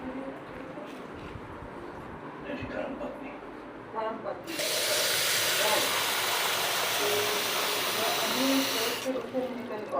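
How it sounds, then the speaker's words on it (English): Water pouring into a new aquarium tank, a loud steady splashing rush lasting several seconds before stopping, with people talking quietly before it begins. "let's pour a bit more water"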